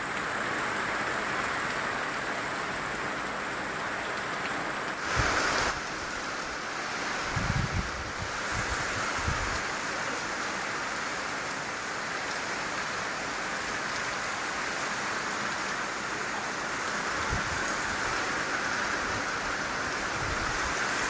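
Heavy downpour during a storm, a dense steady roar of rain with a few low thuds scattered through, continuous and without voices.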